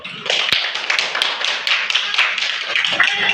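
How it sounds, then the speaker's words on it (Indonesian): A classroom of students applauds a group that has just finished presenting, giving steady, dense clapping close by with no talk over it. "Kasih tepuk tangan dulu."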